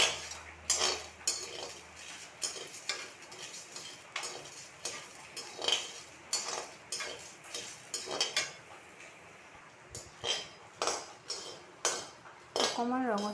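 Rangalau seeds are dry-roasted and stirred in a metal wok, giving a string of sharp scraping clinks and knocks of a spatula against the pan in an irregular rhythm, close by and fairly quiet, with brief gaps between strokes.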